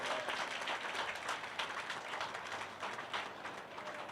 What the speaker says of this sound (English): So give my wife a real nice round of applause.